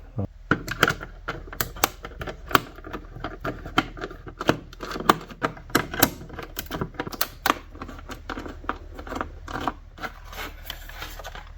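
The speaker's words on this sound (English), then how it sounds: "To do that, you're going to have to take out those 4 screws. They have Phillips heads in them." Four Phillips screws are backed out of a Traxxas lipo charger casing with a screwdriver, giving an irregular run of small, close clicks and scraping ticks.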